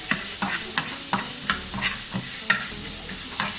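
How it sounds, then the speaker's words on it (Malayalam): Cinnamon, cloves, cardamom and curry leaves roast in a pan on a low flame, a soft dry sizzle broken by a steady series of scraping stirs, close and alone. "നമുക്ക് കുറച്ച് കരിവേപ്പിലയും കൂടി ഇതിലേക്ക് ഇട്ടിട്ട് ഒന്ന് ചൂടാക്കിയെടുക്കാം."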